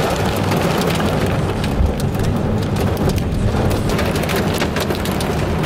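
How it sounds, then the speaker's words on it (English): Hail falling hard during a heavy rain and lightning storm, a dense, loud clatter of close impacts rattling steadily on surfaces throughout, with no voices. "it definitely sounds like hail"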